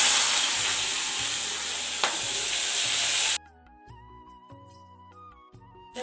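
Chopped onion is tipped into hot oil with tempering spices, giving a loud, steady, close frying sizzle. After about three seconds it cuts off abruptly, and soft background music continues.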